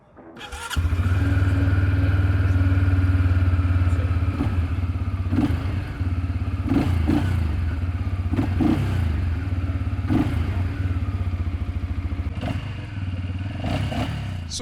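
A 290cc fuel-injected ATV engine cranks and catches, then settles into a loud, steady, deep idle with a few brief revs and mechanical clatter, close up and alone.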